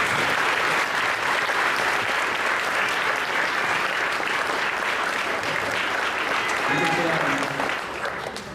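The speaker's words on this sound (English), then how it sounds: "please stand and give your parents and grandparents a round of applause for their support for you," Students at a high school graduation in a gym stand and applaud their parents and grandparents in a large, loud, sustained ovation that thins slightly at the end, with voices faintly mixed in.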